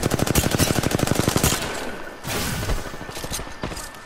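Rapid automatic gunfire in the battle-royale shooter Apex Legends rattles off in a fast, steady stream for about a second and a half, then gives way to scattered shots and a whooshing game effect, loud and close.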